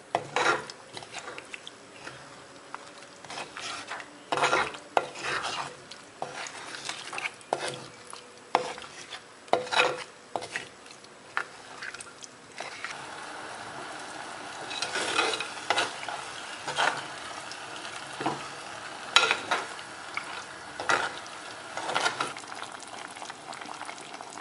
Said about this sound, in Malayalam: നമുക്ക് നന്നായിട്ട് മിക്സ് ചെയ്യാം.